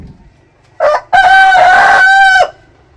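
Australorp chickens on a farm with a breeding parent stock: a short cluck, then a loud, close, sustained rooster crow lasting over a second, clear and alone with no talk.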